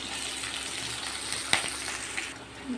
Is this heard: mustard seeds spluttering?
yes